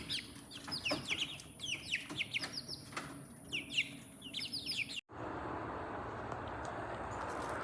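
Young chickens moved outside in warm Texas weather make a busy stream of soft clucks and high peeping chirps for several seconds, close by, before the sound cuts to a steady noisy hiss.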